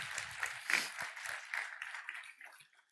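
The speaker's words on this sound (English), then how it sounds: "Round of applause for our volunteers." Faint applause at a Python conference lightning talks session, a soft patter of many hands clapping that swells briefly and then fades away within a few seconds.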